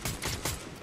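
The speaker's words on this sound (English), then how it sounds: "Oh, I just got sniped at." Gunfire in Fortnite, with three quick, loud shot bursts in rapid succession, sounding close and filling the moment with no talk.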